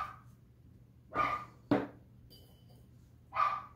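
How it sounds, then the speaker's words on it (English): A dog barks outside in a backyard, three separate loud barks spaced over a few seconds, fairly close, with quiet background between them. "my dog is going crazy out there"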